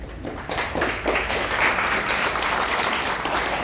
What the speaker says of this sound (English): Give a big applause to the doctor.